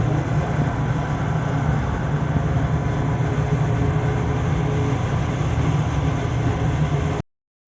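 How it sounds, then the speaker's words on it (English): A steady, loud low rumble and rolling hum from on board the Frankfurt Airport SkyTrain people mover as it travels toward Terminal 2, ending abruptly in silence. "Right now, on board the SkyTrain, which is taking me to the Terminal 2."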